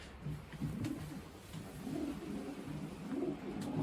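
A racing pigeon coos softly and repeatedly, the low throaty calls rolling in a slow rhythm close to the microphone with no talk.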